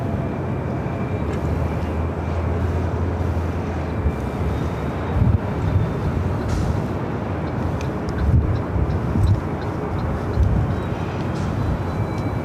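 A Southwest Airlines jet airliner bound for Dallas Love Field at Los Angeles International gives a low, steady, moderately distant engine rumble with gusty wind noise over it throughout.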